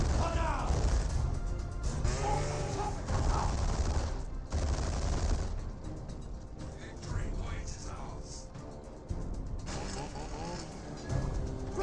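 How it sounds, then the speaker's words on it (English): Assault rifle fire in a Dawn of War 2 Elite Mod battle against a War Boss: rapid crackling volleys and impact thuds keep going under a commentator who talks the whole time. "And now the assault rifles are getting some good damage there onto the War Boss."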